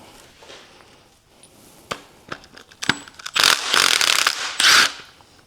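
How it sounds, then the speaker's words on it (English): Wrenching and pulling the valve cover off a rusty Ford 302 V8 from a Ranger: sparse metallic clicks and taps, then several loud, rough scraping and tearing bursts close by. "we're going to go ahead and get this valve cover off"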